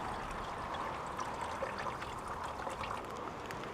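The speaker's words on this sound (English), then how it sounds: "Let's add our sugar water." Sugar water poured into a beehive feeder, a faint, continuous trickling stream with no voices over it.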